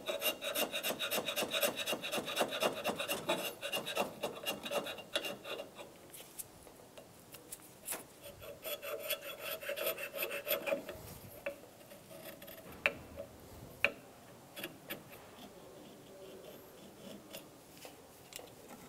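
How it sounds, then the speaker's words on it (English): A wire brush scrubs corrosion from the thermostat housing of a 2000-2006 Toyota Tundra 4.7L V8, giving continuous close, quiet rasping strokes in quick rhythmic bursts. "If you have any corrosion inside of here, go ahead and clean it out now using a wire brush."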